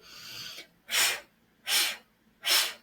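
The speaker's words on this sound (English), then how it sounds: "Just 3 puffs of air. They're very separated." Three separated, forceful puffs of breath pushed out from the stomach muscles, evenly spaced and close, with an exhaled breath just before them.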